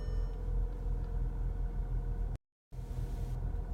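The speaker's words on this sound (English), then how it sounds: "car starts." A 2016 VW Sportwagen engine, started with a keyless button, idles with a steady low rumble, broken by a brief moment of silence before the hum resumes.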